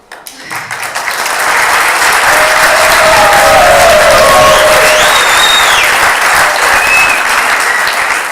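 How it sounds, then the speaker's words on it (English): An audience at a startup pitch event in Tunis breaks into loud, sustained applause that swells within the first second and holds steady, with a few whoops rising above the clapping. "in that natural pause and that lovely applause"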